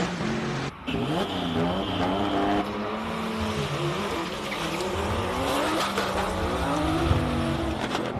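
A Lotus race car climbs the Simola hill climb course, its engine revving and shifting through rising and falling pitches, loud and close, with tire noise and a brief dip near the start.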